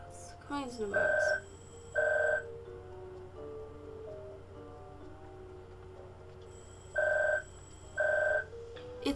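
An old-style telephone rings in the puzzle game Puzzle Agent 2, two short double-burst rings, a pause, then two more, clear over a quiet musical background.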